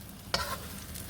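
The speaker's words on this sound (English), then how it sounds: "we really are kind of frying it and just folding them over" Asian-style chicken wings fry in shallow oil, with a brief scrape and stir as they are folded over, then a soft continuous sizzle up close and no voices.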